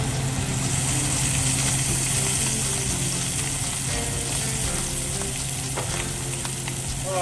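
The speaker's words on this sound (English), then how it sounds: "now the rest of the sausage gets fried up." Sausage fries in oil in a pan as part of an Italian tomato meat sauce, giving a continuous dense sizzle with a steady low hum beneath and a few faint clicks, close and without talk.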